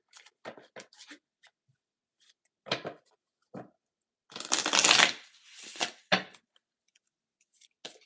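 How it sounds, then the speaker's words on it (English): Tarot cards being shuffled by hand in a series of quick, crisp riffling bursts with short pauses between, the longest flurry midway through, close and fairly quiet with no talking. "Shuffle."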